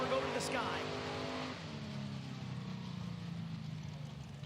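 An outlaw nitro drag racing car's engine revs up to a screaming high pitch and then winds down, loud and sustained, as though heard from the stands with a commentator talking over it.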